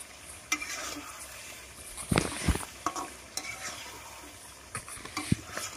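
Kadai chicken with ground black pepper stirred in a pan, soft sizzling beneath scattered scraping and clanking spoon strokes, one louder cluster in the middle, quiet and close, no speech.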